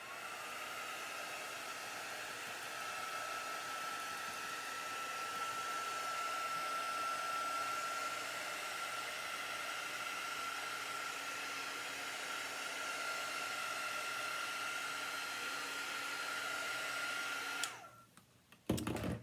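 A hair dryer blows steadily on a chalk craft project for about seventeen seconds, a constant whirring roar at close range that cuts off abruptly near the end, followed by brief handling noise.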